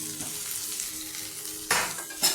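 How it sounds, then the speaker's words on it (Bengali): Fried potatoes go into a simmering egg curry masala, setting off a close, bright sizzle with a couple of sharp bursts as pieces hit the hot oil, along with faint pan and utensil clatter. "আলুগুলি দিয়ে দিলাম।"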